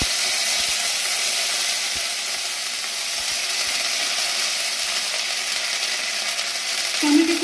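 Ginger paste hits tempered oil for a vegetable dal, producing a loud, steady sizzle that continues unbroken, with a few faint ticks and a brief scrape near the end.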